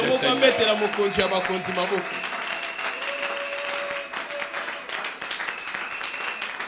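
A church congregation applauds and acclaims the Lord, with steady, dense clapping and cheering voices that carry on throughout, layered over sustained musical tones.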